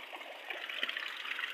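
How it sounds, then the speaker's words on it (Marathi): Heavy rain runs off a cowshed's roof sheets, making a continuous close trickle and splash of falling water with no voices. "वरून यात पाणी पडतंय गोट्याच्या पत्र्यांवरून"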